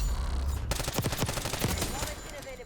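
Rapid bursts of gunshots from a C9 submachine gun in Black Ops 6, sharp closely spaced cracks forming a quick automatic volley that starts abruptly and then trails off, loud and near.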